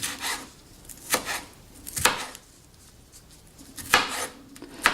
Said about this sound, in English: it doesn't have to be too carefully scientific in your cutting. Just get into nice small pieces.